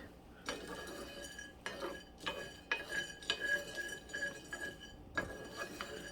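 Home-roasted coffee beans crackling in a pan, a handful of sharp, close pops and snaps at irregular intervals over a steady low hiss, with no talking.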